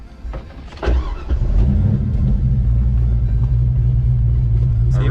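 A 1980s Ford Fox Body Mustang, 34 years old, cranks briefly and fires, then settles into a loud, close, steady idling rumble; a voice is heard during the cranking.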